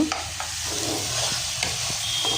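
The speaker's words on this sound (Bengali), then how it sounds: "মশলা কষানো হয়ে গেছে, আমি এখন লাউগুলো দিয়ে দিব।" Bottle gourd pieces drop into hot oil with ground ginger, garlic, cumin and green chillies, giving a steady loud sizzle and frying hiss broken by a few scraping stirs of a spatula against the pan, with no talking.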